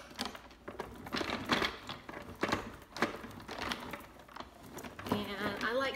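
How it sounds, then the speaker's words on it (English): Manual die cut machine rolling a scalloped stitched square metal die through its rollers, giving a rapid series of clicking, ratcheting crunches, close and fairly loud, with a brief voice near the end. "So I'm just going to run this through my die cut machine."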